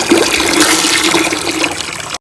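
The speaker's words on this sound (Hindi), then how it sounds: "पानी जो है ना वो डाल दिया।" Water pours steadily into a half-filled bucket for a couple of seconds, a loud continuous splashing gush that stops abruptly, with no voices.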